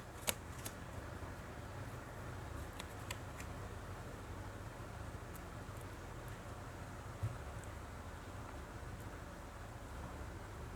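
A tarot deck is shuffled and cards are drawn, producing faint soft riffling and a few light card snaps over quiet room hiss, with no talk.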